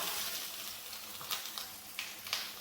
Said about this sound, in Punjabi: ਅਦਰਕ ਨੂੰ ਆਪਾਂ ਪਹਿਲਾਂ ਭੁੰਨ ਲਾਂਗੇ ਥੋੜੀ ਦੇਰ